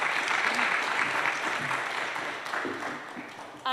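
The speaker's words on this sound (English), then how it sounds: "join me in a round of applause for our speakers and for all our speakers today" An audience at the final session of a conference gives a warm round of applause for the speakers, dense steady clapping that slowly tapers off before a brief sharp sound at the end.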